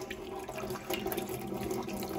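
Water runs from a tap on a solar hot water system with its little filter taken out, a steady close rushing and splashing flow that carries on evenly throughout.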